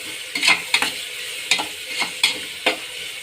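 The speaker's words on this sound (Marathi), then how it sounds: "आता हे छान आपल्याला व्यवस्थित अगदी परतू द्यायचं आहे" Finely diced potato sizzles in a hot pan as a spoon stirs and scrapes it in repeated sharp strokes, close and fairly loud with no voices.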